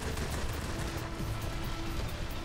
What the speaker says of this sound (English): massive bombing run